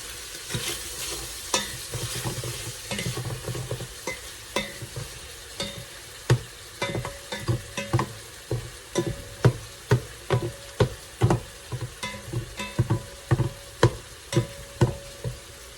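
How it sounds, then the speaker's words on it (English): Food browning in a hot frying pan while being stirred, a steady sizzle broken by repeated sharp scraping strokes that grow more regular toward the end, close up with no talking. "right now we're just going to continue to brown this up"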